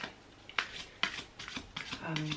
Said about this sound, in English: start to shuffle the Archangel Michael cards